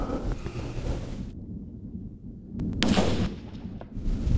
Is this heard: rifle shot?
yes